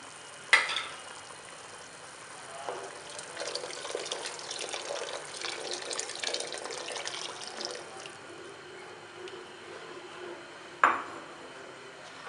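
A spoon stirs hot and sour chicken vegetable soup as cornflour slurry is added, producing a soft, continuous sloshing swirl with sharp metallic clinks against the pot near the start and end.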